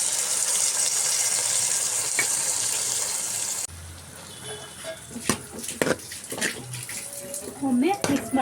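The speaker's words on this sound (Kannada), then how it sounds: "ಈಗ ನಾನು ಹುಣಸೆ ಹುಳಿ ರಸನ ಹಾಕ್ಕೊಳ್ತಾ ಇದ್ದೀನಿ" Tamarind juice poured into a pan of frying capsicum and onion for bisibele bath gives a loud, steady sizzling rush that drops off partway, followed by stirring clatter and a voice talking.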